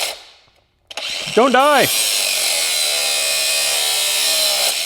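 A power tool cuts a metal piece of a body buck for a King Zero V12 supercar build, a loud steady whine running for about three seconds after a brief quiet gap, with a short spoken phrase at its start.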